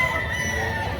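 Boston Roundhead gamecock rooster giving a short crow or cluck, loud and close, over a busy outdoor game-farm market background with murmuring voices.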